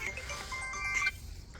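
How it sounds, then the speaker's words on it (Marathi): A phone ringtone plays a bright, repeating electronic melody on a farm where bullocks and horses are kept, ringing steadily and fairly loud for about a second before cutting off abruptly. "आला आला फोन थांब घोटवाल्याच फोन आला"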